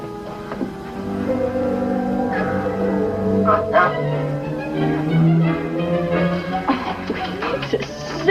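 A seal barks and yelps repeatedly, fairly close and loud, with a dog's whimpering and barking mixed in over a steady low background.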